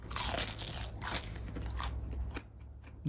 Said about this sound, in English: Do you guys hear this crunch?